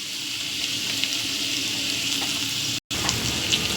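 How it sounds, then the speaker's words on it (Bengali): Vegetables for veg chowmein, among them potato, carrot and chili, sizzle in hot oil in a pan with a steady, close hiss and a few faint stirring clicks. "সব সবজিগুলো তেলের উপর দিয়ে দিয়েছি, এবার একটু ভাজা হবে"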